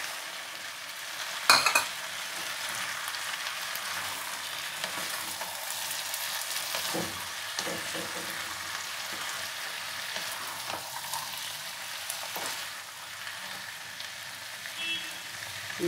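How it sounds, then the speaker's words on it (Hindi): Peas and vegetables fry in oil in a pan for vegetable biryani, a steady soft sizzle with occasional spoon scrapes and stirring knocks, close and fairly quiet throughout. "थोड़ा सा इसको फ्राई कर लेते हैं, फिर मटर डाल देंगे। अब हम इसमें मटर डाल देते हैं,"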